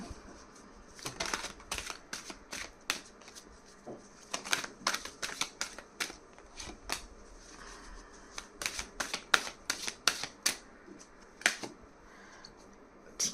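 Tarot cards are shuffled and drawn in a quiet room, making a series of crisp, sharp snaps and flicks that come in irregular bursts, close and fairly faint, with no talking.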